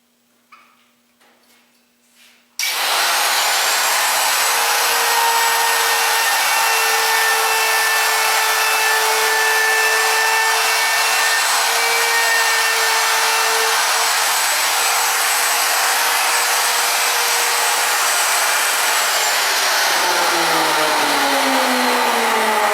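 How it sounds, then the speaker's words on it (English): A handheld wood router spins up and cuts into wood, giving a loud, steady high-pitched whine with broadband cutting noise that runs continuously for about twenty seconds before winding down near the end, with no talking. "A router traveling at the speed it does gives a high-pitched sound"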